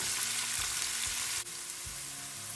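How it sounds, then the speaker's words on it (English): Green beans frying in a pan, a loud steady sizzle heard up close, with a brief sharp click partway through and low kitchen thumps underneath. "beans are fried for 3 minutes"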